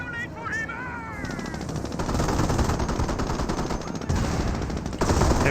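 Sustained machine-gun bursts and rifle fire crackle through a Company of Heroes battle between US and Panzer Elite forces, loud and continuous, with a voice talking over the shooting.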